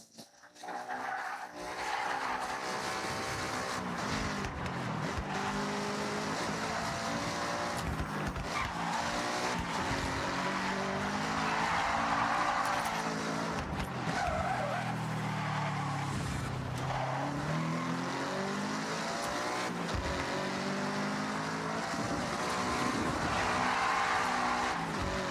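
Race cars in the Forza Horizon driving game roar continuously at full throttle for the whole stretch, engine notes rising and falling through gear changes with bursts of tire squeal and skidding, loud and close with no talking.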